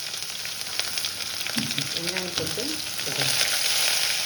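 Onions frying for vendaikkai sambar give a steady close sizzle in the pan with occasional stirring scrapes, while someone speaks briefly over it.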